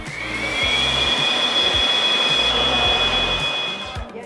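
A steady, loud whooshing blower runs continuously with a high whine, like a hair dryer, holding constant before cutting off at the end.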